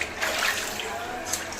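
A newborn baby being bathed in lukewarm water, with continuous close splashing and sloshing and brief brighter splashes near the end.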